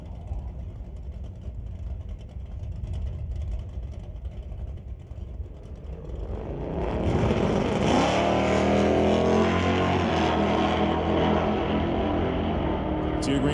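Drag race between a 1970 Chevelle and a 5-liter Mustang: engines idle and rumble, then roar loudly as the cars launch and accelerate hard down the strip, sustained and close.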